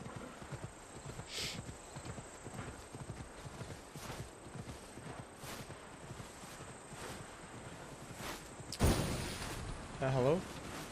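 A horse clip-clops along at a steady walking rhythm while being ridden in Assassin's Creed Odyssey, hoof falls evenly spaced and moderately close. Near the end comes a louder burst and a short whinny-like sound.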